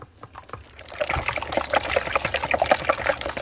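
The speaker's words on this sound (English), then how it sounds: "I'm adding in 1/2 cup of whole milk" Whole milk, half a cup, poured into a mixing bowl of beaten eggs and dry ingredients, a steady close trickle and splash lasting a few seconds after a short quiet start, with no talking.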